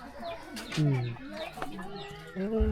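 Chickens and ducks cluck and squawk in short, scattered bursts nearby in a village, with murmured voices mixed in among the birds.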